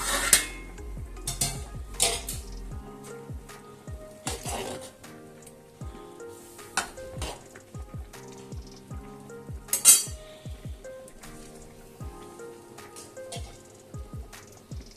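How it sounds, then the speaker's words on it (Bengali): Metal pot and lid clatter in a kitchen while mixed vegetables cook, with sharp clinks and knocks scattered over a soft sizzle, one louder clang near the middle. "এবারে আমি এটা ঢাকা দিয়ে দেব"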